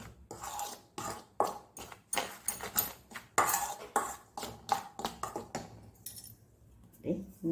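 Metal spoon scraping and clinking against a bowl while mixing khara kaddi dough with hot oil, rapid repeated rhythmic strokes close up, continuing steadily before slowing near the end.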